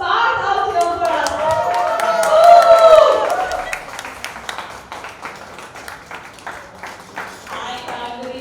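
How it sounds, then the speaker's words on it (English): Audience clapping and cheering at a song launch event greet the arrival of actor Parth Samthaan, the applause swelling and then thinning into scattered claps under a host's voice. "So can I have a huge round of applause and call Parth out here for us."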